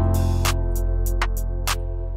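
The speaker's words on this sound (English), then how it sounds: "We got this nice little rim shot sound." Rim shot sample in an FL Studio R&B trap beat, a few sharp, bright percussive hits spaced in a loose rhythm over a loud, sustained bass and synth bed, with no voices.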